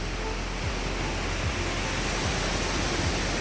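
A waterfall roars as a dense, steady wash of broadband rushing water, loud and unbroken, with a few faint low thuds beneath it.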